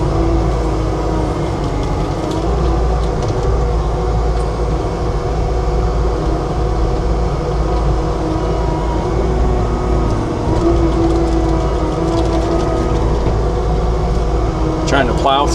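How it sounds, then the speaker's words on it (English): A Bobcat T770 skid steer fitted with an LT313 trencher runs while digging drainage for a horse arena, a loud constant engine drone and hydraulic rumble throughout, close to the microphone. "Skid steer doesn't want to back up."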